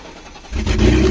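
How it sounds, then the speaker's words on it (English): A 3-litre BMW E46 engine fires up with its exhaust not fully connected, a short burst that jumps from quiet cranking to a loud, raw, rumbling idle close by. "Listen to the sound of the 3 liter. The exhaust is not fully connected yet."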